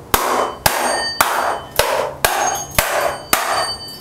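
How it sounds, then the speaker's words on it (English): A hammer smashes a hard drive made of tough metals, landing seven sharp metallic strikes at a steady rhythm about half a second apart, each loud close clang ringing briefly before the next blow, with no talk. "So what you need to do is grab yourself a hammer and use your imagination."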